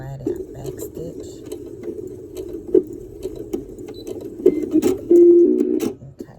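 Sewing machine back-stitching a fabric mask, a close steady whirring run of stitches with short bursts and a louder sustained stretch near the end.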